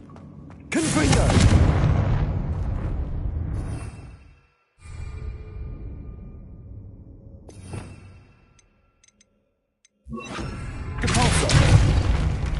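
Confringo fire spell blasts in Hogwarts Legacy, loud booming explosions that surge, fade to near silence and erupt again, with a brief spoken spell name among them.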